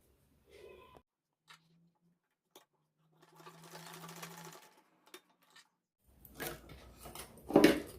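A sewing machine stitches scrap fabric pieces together, starting with a few short taps before a steady whirring run, then louder clattering near the end.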